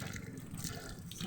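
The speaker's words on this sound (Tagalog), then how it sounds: "Lalaki naman yung tubig" Water pouring hard from a household tap, a steady, noisy rushing splash heard up close with no voices for the whole short stretch.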